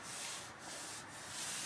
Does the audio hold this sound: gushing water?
no